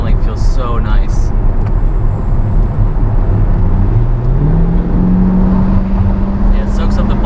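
Naturally aspirated V8 of a 495 hp Chevrolet C8 Corvette while driving, a loud steady cabin drone that climbs smoothly in pitch as it accelerates, with brief talk at the start.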